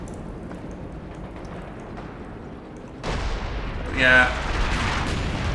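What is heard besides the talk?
grenades landing and exploding in the video game Company of Heroes 2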